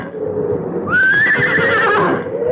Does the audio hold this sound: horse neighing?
yes